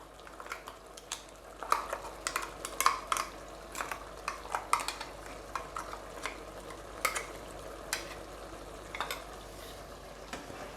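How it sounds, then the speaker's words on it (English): Ground paste being stirred into cooking chicken for biriyani: repeated scraping and clinking of a utensil against the pot over a soft fry, in an irregular rhythm throughout. "And mix well."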